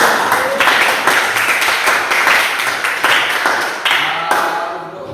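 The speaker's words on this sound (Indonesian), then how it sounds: "Beri tepuk tangan dulu untuk kelompok." A school class claps for a student group in a classroom, dense continuous applause of many hands lasting several seconds, loud and close, fading slightly toward the end.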